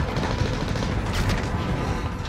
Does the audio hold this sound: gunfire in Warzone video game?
yes